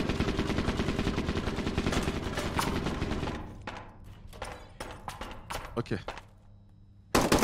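Gunfire in the video game SCP: Pandemic, a dense rapid automatic burst for about three seconds followed by scattered single shots and thuds, with players talking over it.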